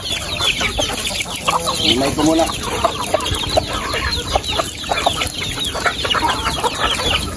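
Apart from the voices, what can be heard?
chickens clucking while being fed corn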